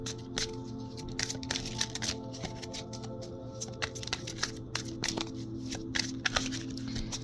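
Tarot cards being shuffled in quick bursts of riffling and flicking, close up, over a steady low hum, with no talking.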